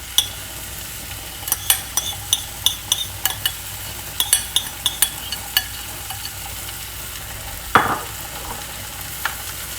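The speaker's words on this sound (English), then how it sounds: "I am going to add the okra, or transfer the okra on the pan." Okra cooking on a greased flat griddle: a continuous close, bright sizzle punctuated by a quick series of light clicks and taps as pieces land and are spread, then a louder clatter near the end, with no voices.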